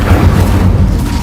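The Incendio fire spell is cast in Hogwarts Legacy, a loud low whooshing boom of flame that fills the short moment with dense rumbling texture and no speech over it.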